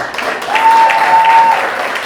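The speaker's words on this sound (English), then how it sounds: "can we just all give a quick round of applause and recognize how amazing the bride and groom look tonight?" Wedding guests at a golf club reception break into loud applause for the bride and groom, a full sustained burst of clapping close by, with a thin steady tone running through the middle.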